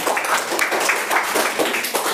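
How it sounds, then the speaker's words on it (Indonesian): A university classroom gives a short round of group applause for a student team, dense rhythmic clapping close by and fairly loud, with no speech over it. "Silakan tepuk tangan buat kelompok 2."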